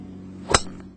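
A single sharp crack of a driver striking a golf ball on the range at the 2007 World Long Drive Championships, loud and close, over a faint steady hum, followed by quiet.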